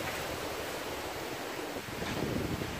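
Sea waves at a beach by a Turkish resort hotel, a steady broad wash of surf mixed with wind noise on the microphone, fairly faint and continuous.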